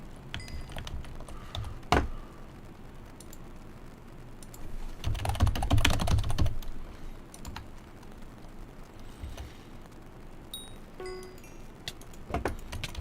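Fast typing on a computer keyboard, sharp clustered key clicks and clacks arriving in quick irregular bursts, with a dense flurry in the middle, close and moderately loud over a faint background hum.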